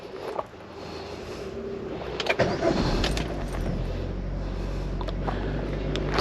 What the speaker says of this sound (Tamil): ஸோ இப்போ வந்து காரை ஸ்டார்ட் பண்ணுவோம்